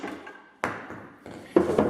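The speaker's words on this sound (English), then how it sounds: "With the press, we're going to go ahead and just hammer it out the rest of the way." Hammer blows driving an old control arm bushing out of a press on a Jeep WJ's rear suspension: three sharp, separate metallic strikes, close and fairly loud, with short ringing decays and no talking.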